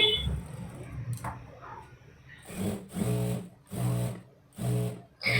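A sewing machine stitches saree fabric pieces together in three or four loud, close bursts of rapid whirring, separated by short pauses, following a stretch of quieter handling.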